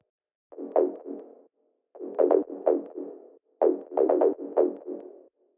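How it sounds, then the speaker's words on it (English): Tech house synth bass treated with plate reverb, short punchy phrases in three bursts separated by gaps, with a slight roomy tail after each note, fairly quiet and alone. "and then we add the reverb."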